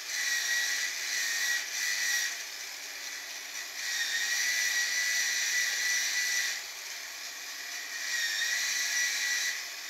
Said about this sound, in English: Then sand transversely to the direction of the previous sanding.